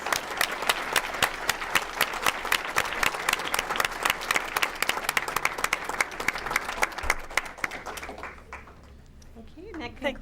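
A school board meeting audience applauds two student teams with dense, sustained clapping that fades out near the end, while cheering voices mix in.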